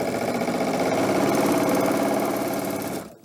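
A sewing machine runs steadily while stitching a quarter-inch seam on quilt pieces, a continuous mid-pitched mechanical whir with rapid rhythmic needle ticking that holds for about three seconds and then cuts off.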